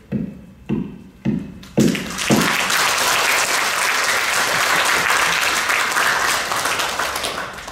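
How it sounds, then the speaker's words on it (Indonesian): Five hollow gavel knocks, evenly spaced, open a student Paralympic sports event, the last knock swallowed by loud, sustained crowd applause that continues to the end. "dengan 5 ketukan Palu ya"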